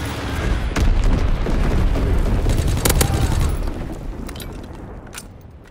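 A Fritz X guided bomb strike in the World War II shooter Call of Duty: WWII: a heavy, booming explosion with a few sharp cracks, rolling on for several seconds before slowly fading.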